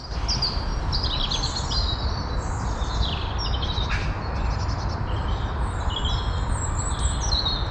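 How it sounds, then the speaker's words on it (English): Many birds chirp and warble overhead in a busy, continuous chorus during a muddy mountain bike ride, heard over a low outdoor rumble, with bright calls scattered throughout. "And listen to the birds."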